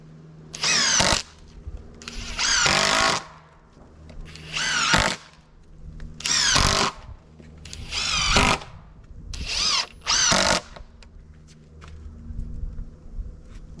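A power drill drives fasteners into a beam for a woodshed in seven loud, close bursts of about one to two seconds each, separated by short pauses, with no talking.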